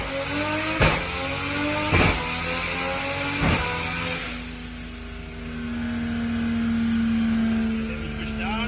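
A 2JZ engine in a BMW build with a ZF 8HP automatic gearbox revs hard through three quick gear changes, each marked by a sharp cut and crack. It then settles into a steady, loud drone.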